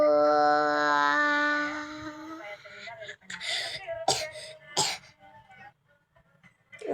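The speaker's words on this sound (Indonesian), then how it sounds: "Batuk ya." Cough sound in the Avatar World game: a sustained whining tone gives way to a couple of sharp, breathy bursts, then quieter scattered noises.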